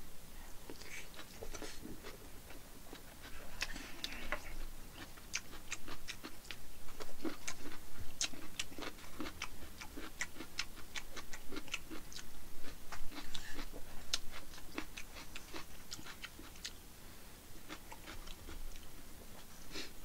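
Close, steady chewing and slurping of jjajangmyeon, black bean noodles, and rice at an eating show; continuous wet mouth noises with rapid crisp clicks throughout, loud and near, without speech.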